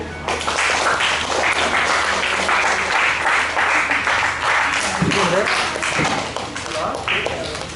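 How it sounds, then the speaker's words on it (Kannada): An audience applauds at a Kannada cultural programme of film songs. The clapping is loud and continuous, with people talking over it throughout. "ಚಪ್ಪಾಳೆ ಬರಲಿ."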